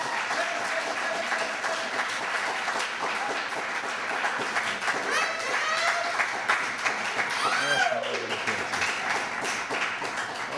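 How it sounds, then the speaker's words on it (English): Audience applause for a seven-year-old girl after her reading at a poetry event in a branch library: steady, dense clapping from a small indoor crowd that fills the whole stretch, with a voice briefly heard over it. "Let's give her another round of applause"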